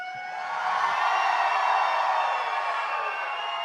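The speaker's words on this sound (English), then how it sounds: "Come on, you gotta cheer louder than that." Audience at HowlerCon 2023, a fan convention, cheering and howling together as a steady crowd roar that swells and holds at moderate loudness with no talk over it.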